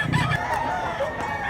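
A seven-month-old rooster for sale at a market in Mantalongon crows once, close and loud, a single drawn-out call with faint background chatter.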